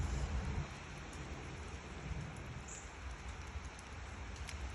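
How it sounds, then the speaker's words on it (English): Steady rain falls outdoors as a soft, even hiss with a low rumbling undertone, faint and continuous with no talk. "It's raining today, everyone."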